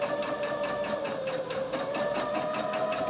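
A sewing machine runs a straight stitch through knit sweater fabric, a steady close whirring hum with a rapid, even needle tapping that continues without pause, no voices.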